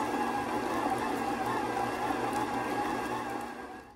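An electric mixer beats five blocks of softened cream cheese for a cheesecake, a steady continuous motor whir with a gritty churning texture, held at an even level for nearly four seconds before easing off at the end.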